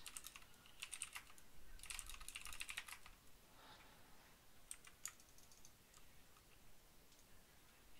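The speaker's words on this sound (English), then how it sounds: "I'm typing" Quiet typing on a computer keyboard, bursts of rapid key clicks with pauses between them, close and faint.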